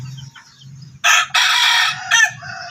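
A rooster on a backyard farm crows loudly and close, a drawn-out call broken into bursts, with softer low clucking from nearby fowl before and beneath it.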